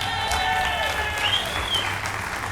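Sustained applause from a theater audience for a play's performers, a dense, steady wash of clapping with a few faint whistling tones running through it.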